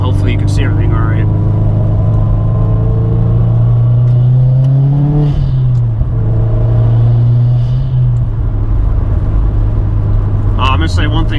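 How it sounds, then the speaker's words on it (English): A car with a competition clutch and short-throw shifter, running on winter tires in cold weather, accelerates hard in sport mode, its engine note rising and falling through gear changes, loud and close throughout. "Gonna put it in sport mode, and we're gonna do some driving."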